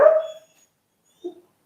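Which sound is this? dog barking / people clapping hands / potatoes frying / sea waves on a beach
dog barking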